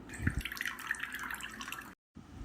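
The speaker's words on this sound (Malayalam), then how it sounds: "ഇനി നല്ലൊരു ചെറുനാരങ്ങയുടെ ജ്യൂസും കൂടെ ഇതിലേക്ക് ചേർക്കാം" Lemon juice poured into mulberry jam gives a steady, close trickling pour lasting about two seconds, then a brief gap and a short resumption.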